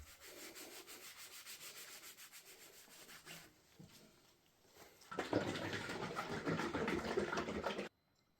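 Hand polishing of a 1991 Panasonic MC Expert bicycle frame with green polishing compound, a soft rubbing swish that comes in quieter strokes at first, then a louder, steady stretch of rubbing that stops abruptly.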